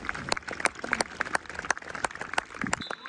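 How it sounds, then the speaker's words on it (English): A football crowd at an EK Thistle non-league match claps steadily for a minute in memory of a late fan, heard from a distance as a faint, rippling patter of scattered hands with no voices. "I think it's a minute's clap for him."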